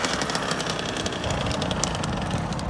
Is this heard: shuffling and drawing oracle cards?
no